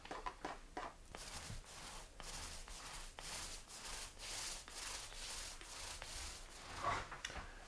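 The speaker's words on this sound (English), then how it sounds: "And so I'm just getting the second coat of primer on here" Paint roller applying a second coat of primer to drywall in a tiny house, soft repeated rubbing strokes in an uneven rhythm, quiet and close with no voices.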